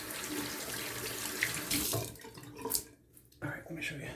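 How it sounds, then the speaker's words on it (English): Tap water runs into a sink while someone rinses off after shaving, a splashing hiss with clattering bursts and a short drop-out near the end. "Let me rinse off."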